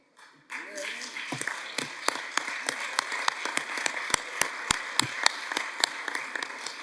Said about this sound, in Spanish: no he provocado este aplauso yo